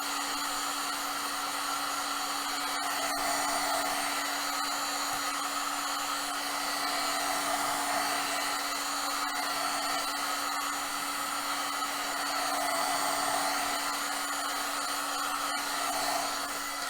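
A heat gun runs continuously on a long Worbla strip for a cosplay breastplate, giving a steady, close blowing roar with a constant fan hum and no talk.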